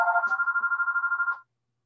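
Mobile phone ringtone going off during a talk, a loud trilling electronic ring that warbles rapidly for about a second and a half and then cuts off abruptly into silence.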